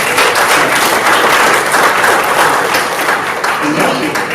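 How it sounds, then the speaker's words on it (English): Loud, dense applause from a town hall audience at a cannabis event in New Jersey, steady and sustained for the whole stretch, with voices mixed in among the clapping. "Clap it up, clap it up"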